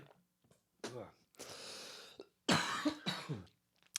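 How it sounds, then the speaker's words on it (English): A few sharp coughs and throat-clearing bursts, close and loud, separated by short silences. "excuse me, cough, I guess"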